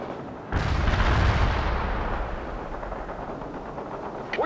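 In the World in Conflict video game, a heavy blast of artillery and gunfire erupts suddenly, then rumbles on as a sustained, dense barrage that slowly fades.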